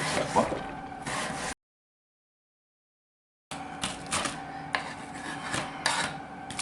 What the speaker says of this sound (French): je vais la reprendre dans l'autre sens pour l'émincer un peu plus finement